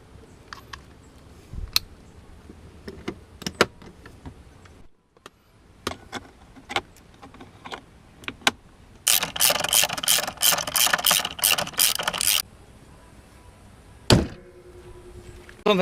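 Parts being screwed down inside a C5 Corvette, with scattered sharp clicks and knocks and then a dense burst of rapid ratcheting for several seconds, close up.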